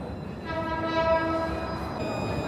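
Light rail train at an underground station in Changchun, its horn sounding in steady tonal chords over a continuous rumble of rolling wheels, loud and close throughout.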